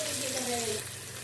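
Garlic, ginger and green chilies sizzle with onions in hot oil, a dense steady frying hiss heard close up while a voice talks over the top.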